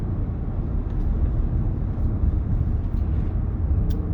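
A 2016 Dodge Durango R/T fitted with 3.45 differentials accelerates through the gears, heard from inside the cabin as a loud, steady low engine and road drone.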